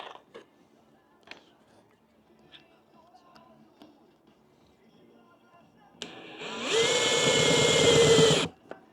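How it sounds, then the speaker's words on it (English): A power drill drives screws into a playground frame, a short loud whir of several seconds bursting in near the end after quiet handling noises and soft movement. "Let's give it some screws."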